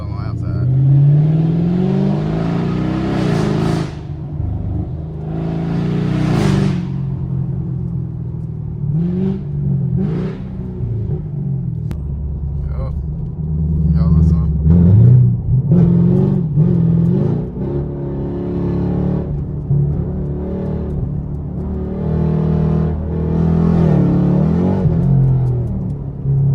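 A catless sixth-generation Chevrolet Camaro SS V8 rumbles and revs loudly through repeated accelerations and gear changes, heard from inside the car with a steady low drone and people talking over it.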